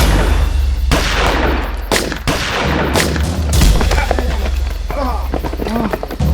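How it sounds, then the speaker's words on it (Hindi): Gunfire in a Hindi-language police crime drama shootout, with several sharp loud bangs and bursts over a rumbling action score, plus brief shouted voices. "राउत, वारकर और शेख सीधा फायर कर देना।"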